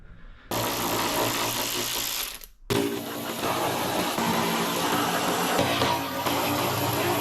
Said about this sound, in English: So all of these are 10mm bolts, so we'll go ahead and get all of these off there